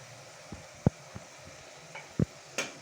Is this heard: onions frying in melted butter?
yes